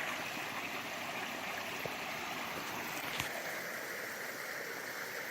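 A dammed stream rushes steadily downstream near Gooseberry Falls, a soft, even wash of flowing water, faint and continuous with no voices.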